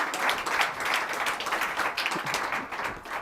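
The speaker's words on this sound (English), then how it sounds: "give her another round of applause for judging, taking time" Audience at a Latism Google Ventures accelerator event applauds the judge with steady, dense clapping from a roomful of people that holds an even level throughout.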